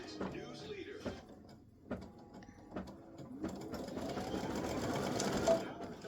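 Embroidery sewing machine stitching a tack-down on an applique, running in steady mechanical bursts with short pauses between, then a longer continuous run that grows louder near the end.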